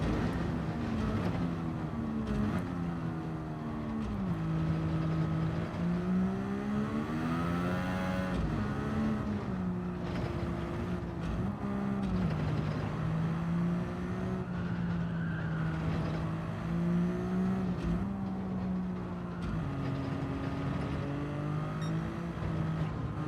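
A race car engine in a video game revs and accelerates hard, its pitch repeatedly climbing and dropping through gear changes in a continuous loud drone, with occasional tire squeal.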